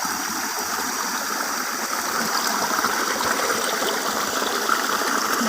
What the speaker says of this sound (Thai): น้ำมันจะไหลลงมาจากภูเขานะคะ